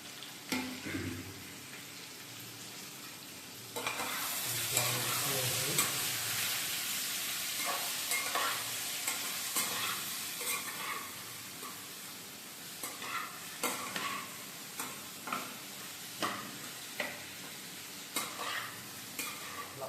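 Turmeric and salt are stirred into ridge gourd curry in a pan, a steady close scraping and soft sizzle with rhythmic spoon strokes growing busier partway through, no talking.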